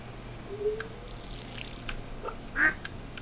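Ducks quacking on a farm in the video game Stardew Valley, a couple of short calls rising briefly over steady wind-like background noise.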